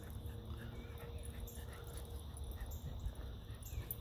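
A small dog on a woodland trail whimpers and whines softly in short, high-pitched bursts over faint outdoor background, quiet and close, with no talking.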